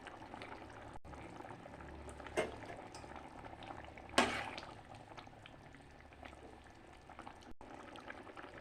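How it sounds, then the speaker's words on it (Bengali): A banana flower curry broth simmers at a steady boil in a pot, a soft continuous bubbling with a couple of sharper clinks from utensils along the way. "ঝোলটা টকবক টকবক করে ফুটছে"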